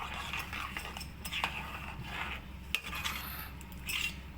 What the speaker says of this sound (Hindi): साथ साथ अच्छे से हम इनको चीज़ों को सबको मिक्स करते जाएंगे।